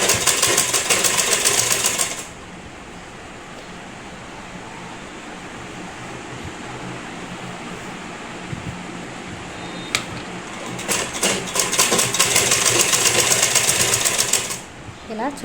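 A sewing machine stitches the folded cloth edges of a house mat in two loud, rapid runs, one at the start and a longer one near the end, with a quieter room and a voice speaking between them.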